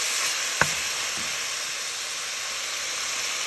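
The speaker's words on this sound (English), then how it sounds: "You want to stir it up really good. Get it good and brown." Pepper steak meat browns in a hot pan, giving off a steady soft sizzle with one sharp scrape of a stirring utensil, fairly quiet and with no voices.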